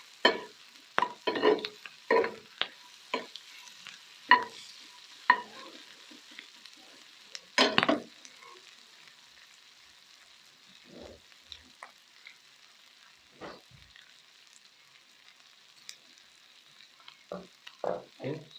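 Sisig with egg and mayonnaise being stirred in a pan over very low heat: soft sizzling under scattered scraping spoon strokes, clustered at the start and end with quieter stretches between.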